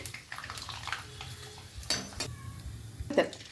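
Ribbon pakoda and rice appalam frying in hot oil, a soft continuous sizzle punctuated by occasional bursts of bubbling and light clinks of a utensil against the pan, fairly quiet and close.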